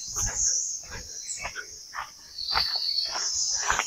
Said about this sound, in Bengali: সকালবেলাতেই ঝিঝি ডাকছে